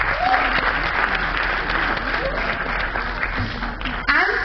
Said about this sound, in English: Please give them a big clap.